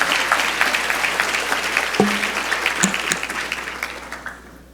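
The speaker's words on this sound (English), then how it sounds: "Let's give them a round of applause." An audience applauds interns at a closing celebration, a dense, steady wash of many hands clapping that fades toward the end, with a brief voice near the middle.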